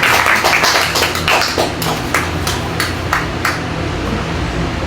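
Church congregation applauding during a service, a steady patter of many hands clapping at moderate loudness, with sharper individual claps standing out and the applause slowly thinning.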